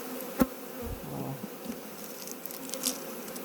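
Honey bees buzz around a hive being moved in late September, a close, continuous insect drone with a few soft knocks and pats from handling the box.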